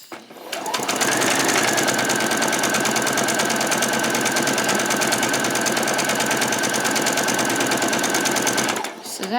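A sewing machine runs steadily and loud up close, stitching a French seam on a cotton peasant skirt in one continuous rapid whirring rattle that stops abruptly at the end.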